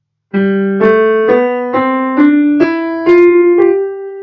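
A single melodic instrument plays an ascending major scale of eight separate notes with an F left unsharpened, evenly paced, each tone clear and sustained, with no voices.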